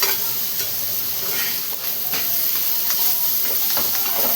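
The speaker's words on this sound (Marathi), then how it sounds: "आता झाकण ठेवून 5 मिनिट आपण मस्त भाजून घेऊया कारले" Bitter gourd (karela) frying under a lid in a covered pan gives a steady, close hiss and sizzle with faint crackles, continuous throughout with no talking.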